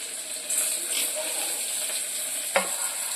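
Peas are stirred through pulao frying in a pan, giving a steady soft sizzle and hiss with a light scrape and a single sharper clink of the spoon near the end.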